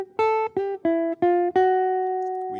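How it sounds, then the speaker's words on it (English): Barry Harris 5-4-3-2 bebop lick played as a short run of five quick melodic notes, the last one held and fading, clear and close with no voices. "this starts our first instance of a Barry Harris 5-4-3-2 lick"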